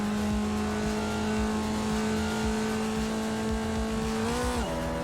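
A Formula Vee race car engine drones at high, steady revs around Laguna Seca in the iRacing sim, the pitch dipping sharply near the end as the car lifts and downshifts for a corner, loud and continuous.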